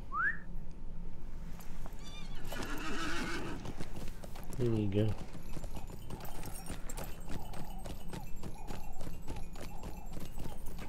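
Horse hooves clip-clop steadily through a fantasy online game while a neigh rises early on, with game effects and a voice talking over the top.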